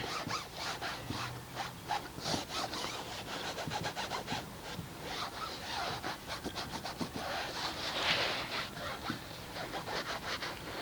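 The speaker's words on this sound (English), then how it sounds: "I've got my Mastersons product on here, and I'm just going to rub it in just like that." Mastersons tire shine is rubbed onto a car tire with a steady, scratchy back-and-forth scrubbing that runs close and continuous, with no talking.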